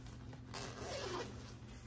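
A zipper being pulled open on a handbag with double zip pulls, a quiet rasping zip that swells in the middle of the stretch, close and faint, with no talking.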